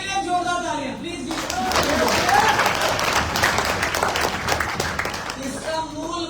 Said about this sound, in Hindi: आप सभी के लिए जोरदार तालियां प्लीज।